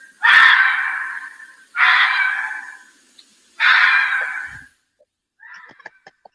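A fox scream played from a phone speaker: three loud, harsh screeching cries in a steady rhythm, each about a second long, followed by a few faint clicks and a short quieter call.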